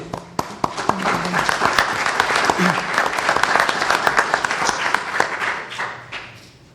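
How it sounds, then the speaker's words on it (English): An audience claps steadily for a panel of speakers, a full round of applause that swells and then tapers off toward the end. "It's good to hear the applause for all our panelists."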